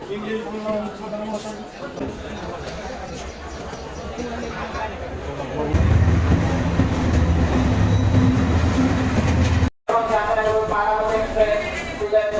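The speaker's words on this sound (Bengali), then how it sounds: "দেখতে পাচ্ছেন আমাদের ট্রেনটা চলে আসছে এয়ারপোর্ট রেলওয়ে স্টেশন।" A train pulls into Airport railway station in Dhaka, its rumble swelling loud and close about midway and running steadily under people talking nearby.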